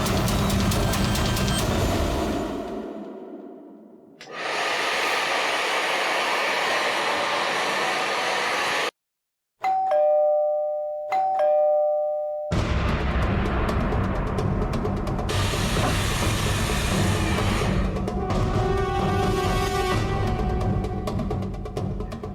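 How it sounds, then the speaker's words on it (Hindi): A two-tone doorbell chime rings twice during a brief lull, between stretches of loud, steady blowing noise from an air conditioner and a hair dryer. "एसी और हेयर ड्रायर की आवाज के ऊपर भी बेल की आवाज साफ सुनाई दे रही है।"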